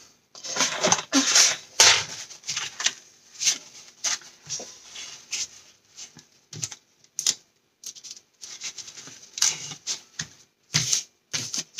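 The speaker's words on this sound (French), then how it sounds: "Ma raclette, pour bien coller tout de suite la colle." A scraper presses and smooths freshly glued paper for a sea-themed pop-up album, giving a run of close, dry rasping strokes in short irregular bursts with brief pauses between them.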